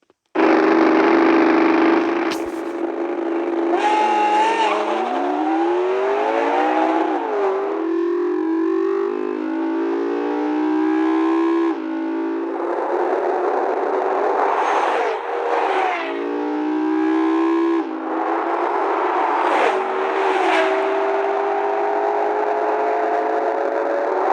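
McLaren sports cars launch side by side in a quarter-mile drag race, engines howling loudly as they rise through repeated gear changes for the whole run, with no talk over them.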